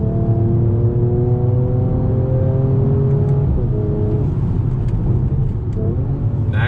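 A 2020 Mercedes-AMG E 53 engine pulls hard through the revs under acceleration, a loud, continuous rising drone heard from inside the car, with a brief dip near a gear change.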